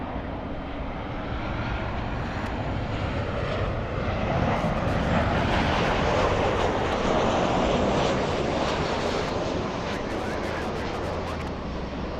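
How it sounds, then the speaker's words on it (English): A Delta Boeing 767-300 jet takes off, bound for JFK, with a loud, sustained engine roar that swells toward the middle and eases slightly near the end; a faint voice may sit beneath it. "we have Delta 939 to JFK. That's a 767-300."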